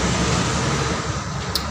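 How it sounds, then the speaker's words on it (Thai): Steady, dense road noise from traffic rolls past nearby, a continuous loud rush with no distinct breaks. "โอ้เสียงรถทุกคนครับ"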